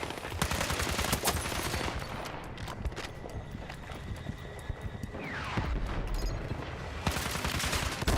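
Video game gunfire, bursts of rapid shots and scattered single cracks at moderate level over a dense mix of in-game noise, with hoof-like clatter.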